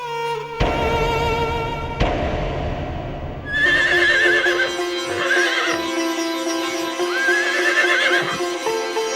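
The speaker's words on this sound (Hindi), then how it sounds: "ये घोड़ी पुनः आ गई।" A mare in an animated Hindu mythological story whinnies in long, wavering neighs. Sharp hoof hits and clip-clops come first, and steady background music runs throughout.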